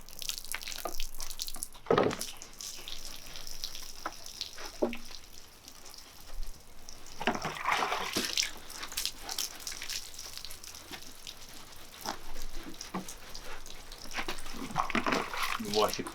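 Water sprays and splashes over a motorbike being washed, an uneven hiss with louder bursts and drips, while a person talks intermittently over it.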